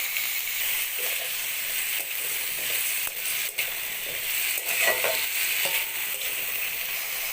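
Washed spinach and vegetables sautéed in a pan with turmeric and salt give a continuous close hissing sizzle, broken by irregular scrapes and knocks of stirring and with no talking.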